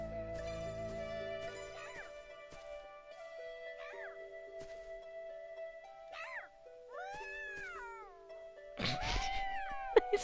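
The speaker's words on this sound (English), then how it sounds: "They sound like cats!" Monsters in the .Hack//GU Last Recode video game let out several distinct cat-like meows and yowls over a steady, sustained game tone, ending in a louder, harsher burst.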